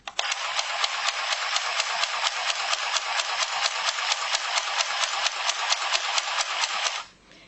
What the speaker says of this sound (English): I'm going to press the power button and start sewing.